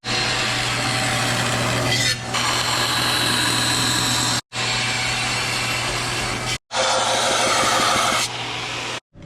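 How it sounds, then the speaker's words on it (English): A power saw bites through 1/8 inch aluminum plate for an intercooler throttle body job, a loud continuous grinding whine with two abrupt stops and restarts, strong steady hum beneath. "cutting 1/8 inch aluminum"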